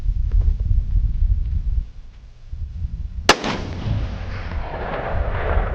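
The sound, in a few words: Ruger American Gen 2 .308 rifle shots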